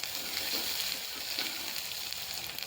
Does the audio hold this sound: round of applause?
no